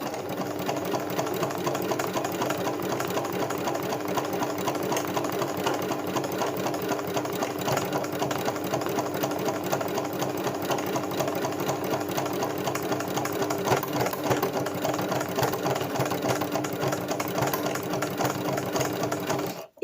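Continuous fast, rattling whir of a domestic sewing machine stitching free-motion embroidery in a hoop, close and steady for the whole stretch before stopping abruptly at the end.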